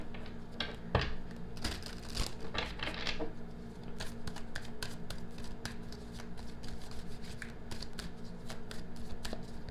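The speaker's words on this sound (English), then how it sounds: "let's cut the deck and let's see what comes up for you" Tarot card deck shuffled and cut by hand, a run of crisp riffling flutters early followed by a steady patter of soft card taps and slides, close and quiet with no talk.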